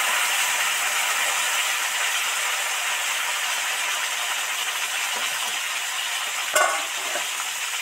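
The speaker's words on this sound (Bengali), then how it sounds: "পাঁচফোড়ন, শুকনো লঙ্কা, তেজপাতা তো লাল লাল করে ভাজা হয়ে গেছে" Panch phoron, dried red chilli and bay leaves frying in hot oil, giving a steady, dense sizzle throughout with a brief sharper crackle near the end.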